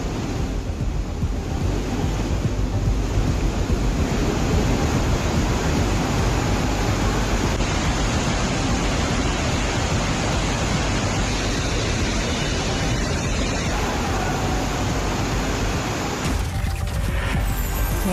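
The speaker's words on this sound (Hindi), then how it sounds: "मसूरी के केम्प्टी जलप्रपात में अचानक आया तेज पानी" Sudden surge of water at Kempty waterfall in Mussoorie, a loud, steady roaring rush of noise that holds at constant strength throughout, with no voices.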